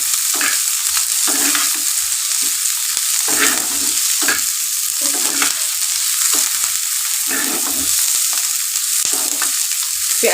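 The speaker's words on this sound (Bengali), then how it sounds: "পেঁয়াজটা একটু ভাজা হলে" Onions frying in plenty of oil in a pan for egg do pyaza, a continuous loud sizzle with rhythmic stirring scrapes breaking through every second or so, close and alone.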